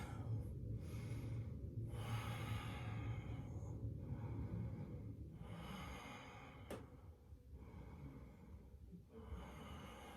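Steady deep breathing held in a yoga pose, a series of slow, even inhales and exhales in a regular rhythm, soft and close over a faint room hum.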